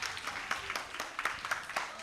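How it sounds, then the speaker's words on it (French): An audience at a children's holiday-show semi-final claps together in a brief, fairly close burst of uneven hand claps, with some voices mixed in. "On s'applaudit très très fort"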